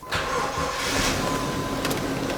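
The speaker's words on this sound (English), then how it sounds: "And just like that, it starts" A car engine cranks and catches after a new starter is fitted during no-start diagnosis, then settles into a steady close running drone, loud and continuous, with no talk.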